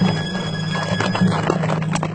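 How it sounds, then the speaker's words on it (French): A group of riders' horses gallop in a spoken Ali Baba tale, with a loud, close, busy clatter of hooves and a whinny. "il entendit un bruit de galop"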